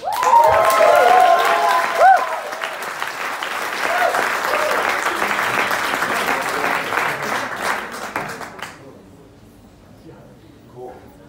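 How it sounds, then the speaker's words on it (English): Warm audience applause for a stand-up comedian named Mike at an amateur comedy night, dense clapping with a few whoops at the start, holding steady for about eight seconds before cutting off to near silence. "Please give a warm round of applause for Mike!"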